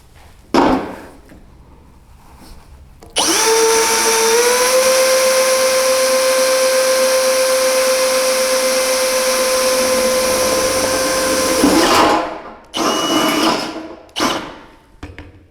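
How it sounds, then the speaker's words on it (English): Bosch GSR 185-LI cordless drill driving a metal bit into metal: a steady high whine holding for about nine seconds after a brief start, then stopping, with short clattering handling noises before and after. "we will see a metal drilling application with this"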